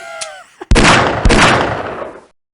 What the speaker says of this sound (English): The fucking Half-Life gunshot sound effect